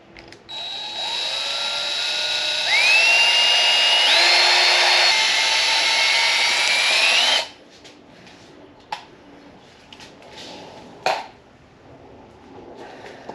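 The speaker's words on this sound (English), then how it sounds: "So we're just going to go ahead and drill in the center." A power drill whirs loudly for several seconds, its pitch rising and shifting as it bores, then stops, leaving a few faint clicks and knocks.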